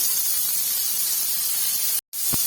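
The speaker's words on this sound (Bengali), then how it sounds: "আর আমি এর মধ্যে একটু টোফুটা ঢেলে দিচ্ছি।" Tofu hitting a hot pan seasoned with garam masala powder, a steady close broadband sizzle and hiss that cuts out briefly near the end before resuming.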